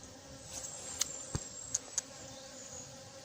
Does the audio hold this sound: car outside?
no